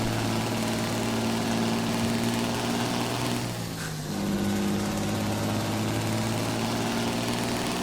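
A truck engine in American Truck Simulator drones steadily while climbing a hill at low speed, its pitch dipping briefly midway as a gear change goes through before the hum settles again.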